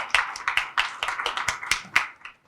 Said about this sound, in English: Big round of applause to Continental Hospitals and their team.